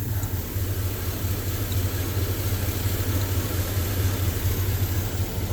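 A Chevy OBS truck with a swapped LS V8 idles steadily while warming up after a cooling-system refill, a low even rumble close by with a constant hum and no revving, alone without talk.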